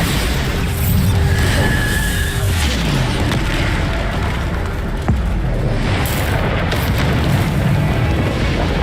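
The Bombarda blasting spell in Hogwarts Legacy booms out loud and heavy amid dense game combat noise, with a sharp impact near the middle and constant rumbling clutter around it.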